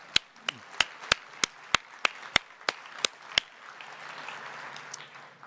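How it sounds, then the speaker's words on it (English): Audience at the STARWEST 2018 software testing conference keynote claps, starting with a dozen distinct, sharp, evenly spaced hand claps and fading into softer, scattered clapping near the end. "One more hand of a round of applause for you."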